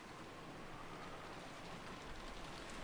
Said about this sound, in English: A thick rain poured down,